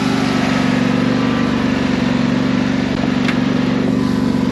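A ride-on lawn mower engine runs at a steady, loud, unbroken drone with a low buzzing hum throughout, close by, with no talking.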